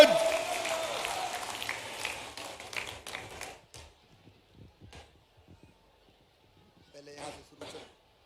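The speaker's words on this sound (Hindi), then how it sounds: "मैं स्वयं आमंत्रित करता हूं आदरणीय प्रदेश के मुखिया शिवराज सिंह जी चौहान को जोरदार तालियों के साथ आमंत्रित करता हूं।" A rally crowd in Neemuch applauds Madhya Pradesh chief minister Shivraj Singh Chouhan, the clapping loud at first, then thinning and fading out into near silence, followed by a few faint voices.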